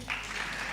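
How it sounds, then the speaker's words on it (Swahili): Audience applause breaks out at a national survivors' conference, a brief burst of clapping from many hands, moderately distant and steady in a large room. "Makofi"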